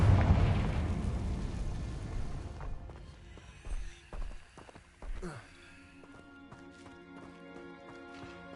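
A Confringo spell in the Hogwarts Legacy video game bursts with a loud, roaring blast that fades into rumbling, followed by scattered crackles and thuds of debris within the game soundscape.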